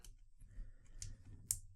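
A Street Fighter 2 action figure from Jada Toys makes a small, sharp click at its torso ball joint as it is turned from side to side, with a fainter click just before it over quiet handling noise.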